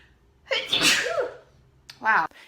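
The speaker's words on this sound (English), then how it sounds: "Ooh, I feel like I'm gonna sneeze, you guys." A single strong human sneeze erupts close to the mic, followed a moment later by a brief voiced exclamation.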